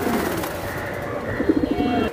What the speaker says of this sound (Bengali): ঝুমা লাইনের পাখি কবুতর